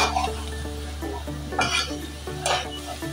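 A spatula scrapes and clinks against a pan while vegetable fried rice is stirred and tossed, with gentle sizzling underneath and a steady low hum throughout.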